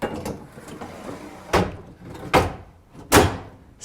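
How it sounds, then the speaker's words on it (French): A Hettich AvanTech YOU drawer is pulled off a Quadro runner and handled, giving three sharp wooden knocks and thuds spaced about a second apart. Each hit is loud and close, with a quieter rattle in between. "je peux retirer mon tiroir qui est sur une Quadro"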